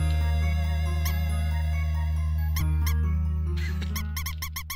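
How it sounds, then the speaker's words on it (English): Small cute mouse squeaks from the video game Undertale, a few short high chirps rising over a steady droning game music bed, with a quick run of repeated squeaks near the end. "The little mouse squeak there"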